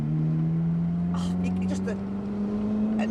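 Ferrari F430 Spider with a manual gearbox, its engine held at a steady throttle as a low, even drone runs through the whole clip, with someone talking over it.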